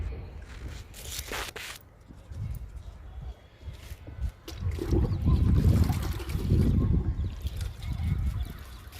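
Liquid fertilizer poured onto a guava plant, splashing and trickling into soil in uneven surges that swell louder midway, with a brief crinkly rustle near the start.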